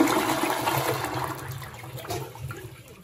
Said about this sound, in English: We're going to go ahead and flush it.